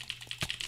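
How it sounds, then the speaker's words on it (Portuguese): Rapid jittery mouse clicks from fast jitter clicking in a game against a bot, a dense run of sharp, close clicks, loud and steady throughout. "Eu tô fazendo jitter click contra o robô e ele não cai."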